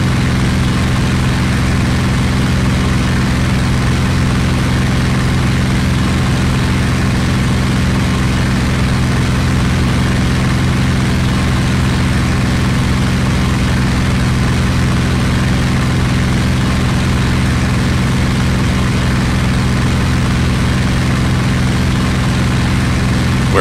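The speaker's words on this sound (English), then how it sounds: "Climbing on full power here, so that may bust the engine." A P-47D Thunderbolt or Bf 109K piston engine in a flight game runs at full power during a climb, a loud, unbroken, even drone with a low throb that holds steady throughout with no talk.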